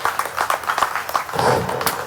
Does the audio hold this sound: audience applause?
yes